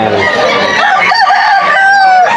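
Several roosters crow loudly and continuously at a busy chicken market in a Malolos, Bulacan tiangge, with dense overlapping calls and some clucking filling the scene.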